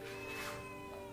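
Cats meowing at a shelter for abandoned street cats, a soft, sustained meow held over a faint background hum.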